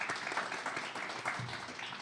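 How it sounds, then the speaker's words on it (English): Brief, faint applause from a research event audience, a thin patter of clapping that is fairly quiet and continues for about two seconds. "So that's for everybody, a big round of applause"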